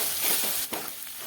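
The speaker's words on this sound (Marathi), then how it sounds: "आणि बघू शकता डाळ आता परतलेली आहे छान." Lentils fry in hot oil in a pan for a shepu (dill) bhaji, giving a brief, close crackling sizzle with a soft stirring scrape partway through.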